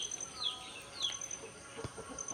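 Soft, scattered clucking and chirpy calls from chickens in a quiet outdoor setting around feeding time, with faint background noise and a few brief higher bird notes.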